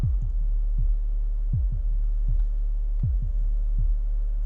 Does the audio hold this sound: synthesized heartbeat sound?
yes